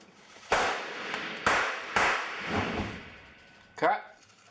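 Several small squib charges pop under a shirt on a film set for a bloody bullet-hit effect, giving four or five sharp, loud bursts spaced about a second apart, each trailing off briefly, with a final crack near the end.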